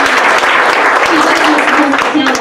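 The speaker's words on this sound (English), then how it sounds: "would you give the First Lady of New Life 313 Ministries a great big hand clap?" A burst of church congregation applause and clapping fills the clip, dense and lively, with some voices mixed in.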